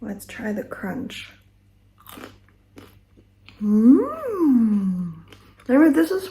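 Crunchy smashed potatoes, roasted 45 minutes, are bitten and chewed at close range in a few crisp bursts, with speech and a voiced hum before and between the bites.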